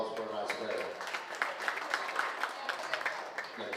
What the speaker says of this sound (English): Let's give that young lady a nice round of applause for a nice pair.